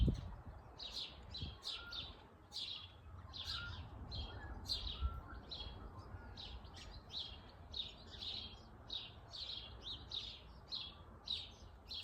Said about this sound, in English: It's all the birds. It's so beautiful.